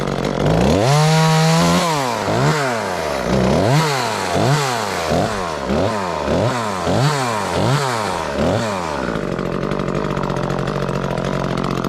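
An Echo CS-355T chainsaw revs up loudly and then cycles through about a dozen rhythmic throttle bursts, each rising and falling in pitch, before it settles into a steady idle near the end.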